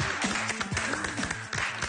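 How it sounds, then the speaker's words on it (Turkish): Studio audience applause on a Turkish television game show, a steady patter of many hands clapping at moderate loudness through the whole moment. "Alkışlıyoruz."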